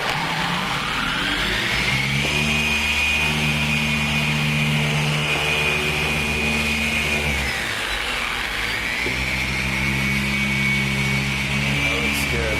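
A machine polisher buffs paint on a 2012 Camaro, its motor whining steadily and shifting pitch as the load changes mid-pass, close and loud without a break.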